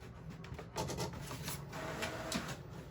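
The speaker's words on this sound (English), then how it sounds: "I'm just going to click print, and you can hear, here it goes" An inexpensive home printer runs a print job, giving steady mechanical whirring and rubbing with a few soft clunks as the paper feeds. It sounds nearby and fairly quiet, with no voice.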